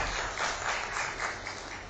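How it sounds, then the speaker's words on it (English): Broad, steady applause from a seated audience at a road-safety panel session in India, a dense wash of clapping at moderate distance that carries on evenly with no speech. "Can we have a round of applause?"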